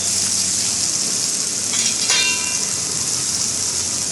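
A steady, hissing sizzle of cabbage frying in a pan, close and even, with a brief scraping clatter from stirring midway.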